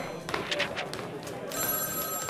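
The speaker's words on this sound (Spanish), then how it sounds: "nadie se molestaba por atender ese teléfono que sonaba" A telephone bell rings in bright, repeated trills, then a steady electronic tone joins near the end, with busy background sound around it.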